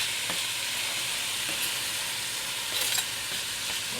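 Hungarian paprika paste hits hot fat in a goulash pot and sizzles steadily, a close, continuous frying hiss with a few brief crackling pops and stirring scrapes.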